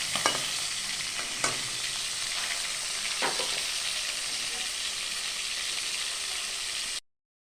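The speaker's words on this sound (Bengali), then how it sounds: "সরষার তেলে মাছগুলোকে ভেজে নিতে হবে" Fish frying in mustard oil gives a loud, dense, continuous sizzle with a few sharp spatula scrapes and clicks, then cuts off abruptly to silence near the end.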